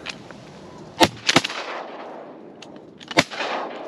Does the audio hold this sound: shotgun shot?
yes